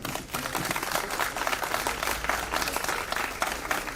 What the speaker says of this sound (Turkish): Ona çok büyük bir alkış istiyorum efendim